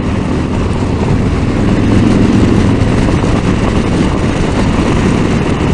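Harley Davidson Road Glide motorcycle engine pulling steadily in top gear, a loud, continuous low rumble that swells gently under light throttle, heard close with wind noise throughout.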